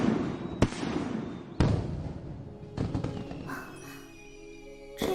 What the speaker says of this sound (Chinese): 竟然已经有烟花了